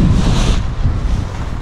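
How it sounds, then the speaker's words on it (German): Strong wind buffets the microphone during a paraglider launch, a loud, rumbling, gusting roar that dips briefly and then keeps churning, with no talking. "es war jetzt relativ viel Wind"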